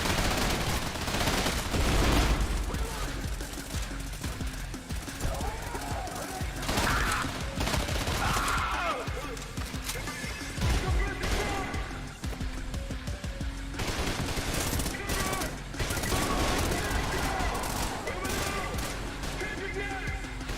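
Repeated bursts of gunfire in the shooter Trepang 2, loud and near, continuing under someone talking.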